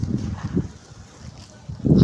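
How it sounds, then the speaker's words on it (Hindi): Wind blowing outdoors while mud is mixed by hand, heard as low, rumbling gusts buffeting the microphone in uneven bursts, the strongest at the end. "कोई हवा चल रही है क्या?"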